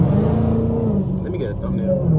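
A 900 hp Dodge Hellcat cruises through city streets, its deep engine rumble steady and close throughout, swelling and easing slightly as it drives.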